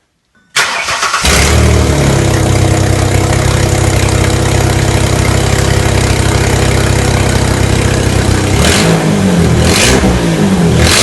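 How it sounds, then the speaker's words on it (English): A Mercury Monterey engine being checked for misfire cranks, catches and settles into a loud, steady run close by, with a couple of brief rev surges near the end. "Now I'm going to start it just to make sure it's okay, just for a short period of time to make sure I don't have any severe misfire"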